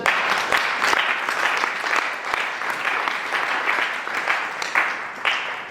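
A church congregation applauds loudly and steadily during a French-language sermon, a dense, continuous clapping that stays close and even throughout.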